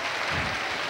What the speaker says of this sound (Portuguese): Vamos aplaudir os nossos maridos?